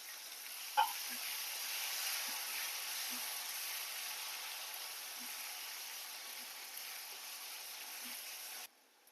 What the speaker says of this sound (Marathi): बघू शकता तुम्ही आपला कांदा आणि टमाटर चांगला तळला गेलाय